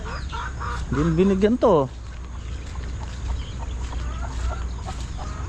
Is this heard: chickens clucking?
yes